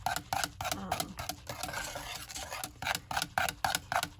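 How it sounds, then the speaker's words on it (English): A whisk beats chocolate pudding filling for a pie in a quick, steady rhythm of scraping strokes against the pot, with a voice talking over the stirring. "you want to just keep whisking it so that"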